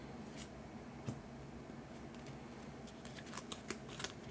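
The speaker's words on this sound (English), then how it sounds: "Not much of a shuffle. There's only 5 cards in these decks." A small five-card deck from the Senjutsu board game shuffled by hand, heard as faint, quiet card flicks and light taps. They come loosely at first, then quicker near the end.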